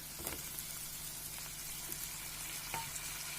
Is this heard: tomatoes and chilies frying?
yes